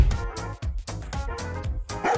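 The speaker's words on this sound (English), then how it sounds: "That dog has aura." A dog barks and yips in a quick, uneven series of sharp, close barks with brief whiny notes, filling the short moment with no talking.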